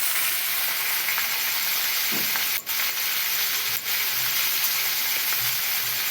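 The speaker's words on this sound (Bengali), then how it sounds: "আর ওদিকে আমার তো মাছ ভাজা হচ্ছে" Fish fries in oil over a wood-fired stove with a steady, bright sizzle and crackle throughout, fairly close, with a couple of brief clicks and no talking.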